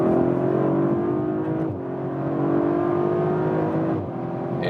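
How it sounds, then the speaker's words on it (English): An Audi RS5 engine roars under hard acceleration, its steady rising drone broken by two quick paddle-shifted gear changes, loud and close from inside the cabin. "One more acceleration, let's use the shifting pedals"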